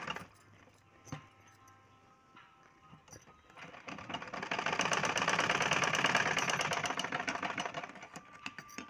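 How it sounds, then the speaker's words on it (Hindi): Sewing machine stitching pleats along the middle of a garment sleeve, a steady mechanical whir that starts after scattered handling clicks and runs continuously for several seconds before easing off. "आपको इस तरह से इन प्लेटों को ऊपर की तरफ इसका रुख करते हुए सिलाई लगानी है बीच में"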